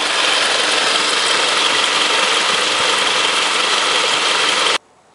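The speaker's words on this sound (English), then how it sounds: "the clutch is now turning" A car engine idles with its AC compressor clutch engaged and turning, giving a steady, loud, close hum and whir that cuts off abruptly near the end.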